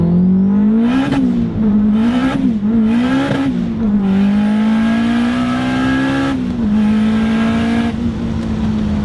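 A turbocharged Acura RSX Type S accelerates hard, its engine droning loud and close with rising revs broken by quick gear shifts, heard alone without talk.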